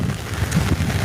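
Steady rain falling during the rice-growing season, a dense, continuous wash of low hiss and patter close by, with no voices.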